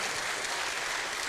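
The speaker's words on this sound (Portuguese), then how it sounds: "vamos aplaudir os nossos convidados e cumprimentá-los com o nosso amor" A church congregation at a worship service claps for visiting guests, a short burst of dense, steady applause heard close and even.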